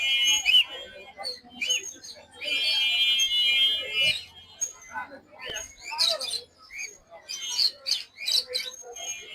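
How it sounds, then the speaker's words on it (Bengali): Caged lovebirds, cockatiels and budgerigars chirp and whistle close by in busy, overlapping bursts of high tweets and squawks, with a steadier trilling patch near the start. "এখানে কিছু পাখি আছে, লাভবার্ড, কোকাটেল, পাইনাপেল।"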